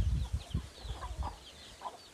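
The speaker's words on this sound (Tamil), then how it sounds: "அங்கே எல்லாம் கோழியே தான் மேய்ஞ்சிருக்கு பாருங்க." Free-range native chickens cluck in a series of short, close bursts with a rooster among them, the calls coming in an uneven rhythm over soft outdoor background.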